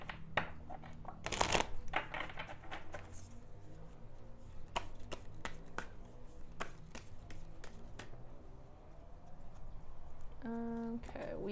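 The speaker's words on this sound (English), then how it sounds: "let me pull out one more card" Tarot cards are shuffled in a quick riffle, then flicked and tapped as single cards are drawn from the deck, soft and close under quiet talk.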